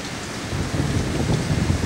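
Strong wind buffets the microphone in a steady, loud roar of broadband rushing noise with no voices, heard outdoors beside a 1985 Chrysler New Yorker.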